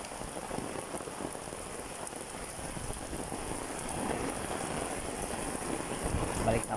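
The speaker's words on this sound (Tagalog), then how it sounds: "Lumalakas ang ulan." Heavy rain pours steadily onto surfaces outside a tricycle, a dense continuous hiss that builds slightly louder toward the end, with wind noise buffeting the microphone.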